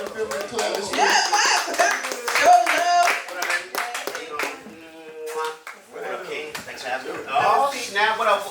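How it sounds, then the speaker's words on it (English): A small crowd claps for a guest called up onstage at a talk show, with scattered quick claps and slaps mixed with excited voices and some laughter. "Clap this shit."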